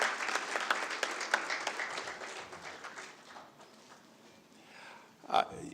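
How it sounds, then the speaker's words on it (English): Graduation ceremony audience at the Illinois Institute of Technology claps, loud at first then thinning and fading out, with a brief louder bump near the end. "let's give them a hand of applause."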